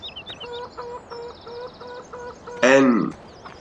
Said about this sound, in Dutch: Dan kan je je kip voeren.